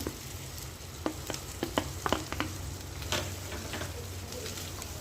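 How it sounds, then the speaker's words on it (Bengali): Onion and ginger-garlic paste fry in a pan, making a soft, low sizzle under scattered stirring scrapes and taps, heard alone and fairly quiet. "এটা আদা রসুন বাটা আর পেঁয়াজ কষা হচ্ছে নরম হয়ে গেছে পেঁয়াজগুলো"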